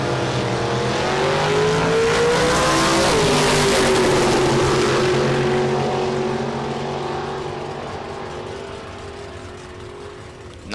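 At a drag race, a 1967 Nova and a 1968 Camaro roar off the line with a loud, sustained engine howl that climbs in pitch, shifts once, then fades into the distance as the cars pull away down the strip.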